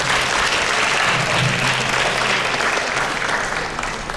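Audience applause at a singer-songwriter master session in a high school, a dense, steady wash of clapping that carries evenly from start to finish with no talk over it.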